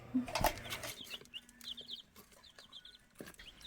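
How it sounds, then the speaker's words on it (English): Chickens cluck and chirp softly in short bursts close by, with a few brief rustles and thumps in the background. "Pretty awesome chickens you got."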